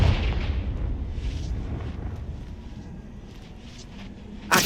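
Confringo fire spell blast in Hogwarts Legacy, a deep rumbling burst that rolls and fades over several seconds, with a sharper crack at the end.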